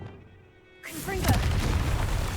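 A Confringo fire spell explosion in Hogwarts Legacy bursts suddenly after a quiet moment, a loud booming blast with a rolling crackle, while a voice speaks over it.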